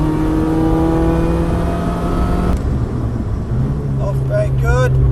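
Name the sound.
track car engine accelerating at full throttle at Cadwell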